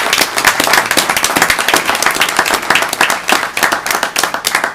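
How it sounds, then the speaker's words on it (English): Steady, dense applause from a crowd at a school board meeting, loud and close, with hands clapping continuously throughout. "I would like to applaud these young ladies for their hard work"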